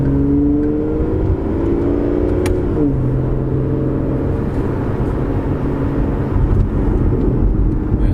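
An Aston Martin Vanquish cruises on the road, its engine giving a loud, steady low drone with gentle pitch shifts as it eases through gears, heard from inside the cabin with continuous road rumble.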